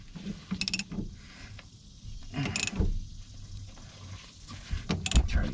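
Mechanical clicking and ratcheting while brake caliper bolts on a 2012 Nissan Rogue 2.5 S are tightened down to crush their washers; a few short bright bursts stand out over a low, quiet workshop background with no talk.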